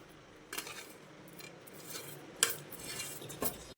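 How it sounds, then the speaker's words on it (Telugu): Spiced lentil and curry leaf mixture stirred with a metal spoon in a bowl, giving soft scraping with a few sharp clinks of utensil against the dish, close and fairly quiet. "అన్నిటిని ఇలా కలిపేసుకోవాలి ఫ్రెండ్స్"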